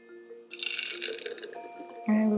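A mango and butternut squash smoothie is poured, giving a brief wet, splashing pour for about a second, then a steadier tone as the pour ends.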